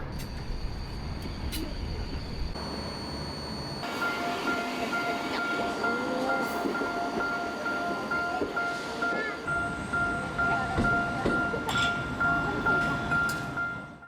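A train rolls past at a Tokyo rail-viewing spot near Ueno, a steady fairly distant rumble with wheel clatter and a sustained high tone, fairly quiet throughout.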